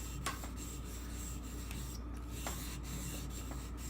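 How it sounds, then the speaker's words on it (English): A Nagura stone rubbed back and forth on a wet Japanese water stone to raise a slurry for knife sharpening, giving steady close rasping strokes with a few sharper scrapes, alone without talk. "I'm going to use a Nagura stone now, which makes a slurry on here. So I'm just going to rub some of this on here."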